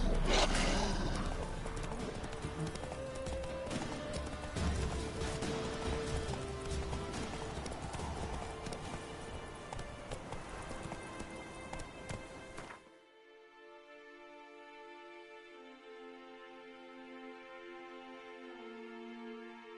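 Roach, a horse in The Witcher 3, gallops with steady clip-clop hoofbeats over a dense game soundscape, which gives way to a calmer sustained musical backdrop in the final seconds.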